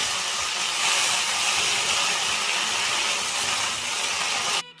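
Vegetables and leafy greens sizzle in hot oil in a pan, a steady loud frying hiss that runs without pause before cutting off abruptly at the very end.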